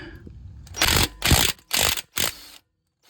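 A wrench loosens a bolt on an Acura MDX during a brake pad replacement, giving four quick bursts of ratcheting clicks in a row, close and fairly loud, then silence.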